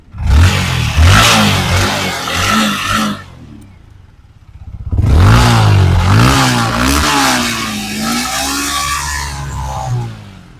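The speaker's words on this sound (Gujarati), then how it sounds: "એન્જિન અવાજ તમને સંભળાવી દઉં" A Yamaha MT-15 motorcycle engine, with about 11,000 km on it, revs loudly twice, rising and falling in pitch with a short idle pause between bursts, close by and without speech.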